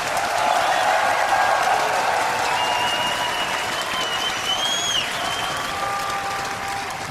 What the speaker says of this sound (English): it's hard to tell based off the cheering which player the crowd wants more